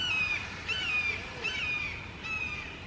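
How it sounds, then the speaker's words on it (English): Hawks call from overhead in a series of four drawn-out, slightly slurred screeching cries spaced about every half second to second, moderately loud against faint outdoor background. "The hawks are up there flying around."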